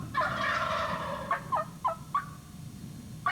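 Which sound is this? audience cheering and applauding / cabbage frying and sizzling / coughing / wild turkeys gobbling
wild turkeys gobbling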